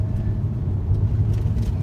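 Steady low engine rumble from an Alpine A110 sports car, a continuous close drone with no clear revving or talk over it.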